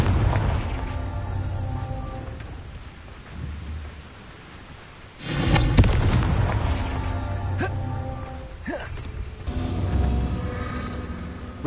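A Confringo spell explosion in the video game Hogwarts Legacy, a loud booming blast surrounded by rumbling and crackling, with a further burst a few seconds later, no talking heard.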